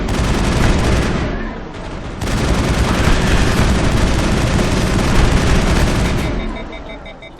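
Gunfire in the Mass Effect video game: dense, loud bursts of weapon fire with rumbling impacts, filling the scene almost continuously, easing briefly before resuming, with voices faintly mixed in.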